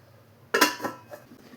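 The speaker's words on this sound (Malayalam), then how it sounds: "ഇനി എല്ലാം കൂടെ ഒന്ന് മിക്സ് ചെയ്തെടുക്കാം." Soya chunks mixed with masala in a pan make a single sharp clack of a utensil against the pan, followed by a couple of softer scrapes and knocks, close and quiet.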